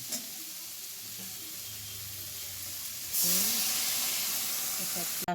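Water poured into a pan of frying vegetables sets off a sudden loud hiss and burst of steam after a quieter stretch of frying and stirring, close up, with a brief voice near the end.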